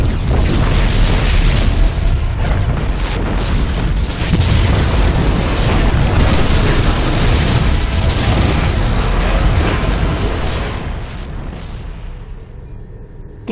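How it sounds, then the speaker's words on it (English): Continuous heavy booming explosions rumble loudly and densely in the video game StarCraft II, like a sustained barrage, then fade and thin out toward the end. "The explosions have stopped."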